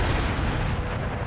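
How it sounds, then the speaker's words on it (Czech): Cannons in a Total War strategy game pounding a fortress wall: a dense, continuous roar of overlapping booming artillery fire and rumbling impacts, loud and unbroken throughout. "tyhle ty děla zase mají tu výhodu, že mají větší poškození a když právě střílí na hradbu."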